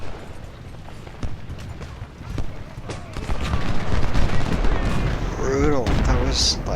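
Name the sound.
musket volley gunfire in Ultimate General: Civil War video game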